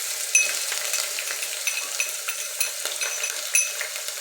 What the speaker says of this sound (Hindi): अदरक लहसुन जो है वो हम लोग इसमें फ्राई कर रहे हैं